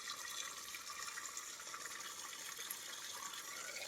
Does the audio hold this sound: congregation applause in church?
no